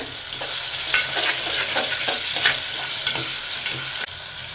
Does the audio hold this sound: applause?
no